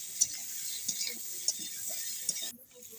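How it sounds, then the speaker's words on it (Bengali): Potato and eggplant vegetables fry and are stirred in a pan for a rohu fish curry, a soft steady sizzle with several sharp scraping clinks of a spatula, close by and fairly quiet. "নাড়াচাড়া করে ভালো করে কষিয়ে নিতে হবে সবজিটা"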